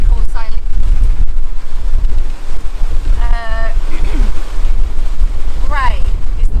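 A sailboat pushing through strong wind, with heavy low rumble and rushing wind buffeting the microphone throughout, as a voice speaks briefly in a few short bursts over it.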